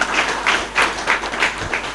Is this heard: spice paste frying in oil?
no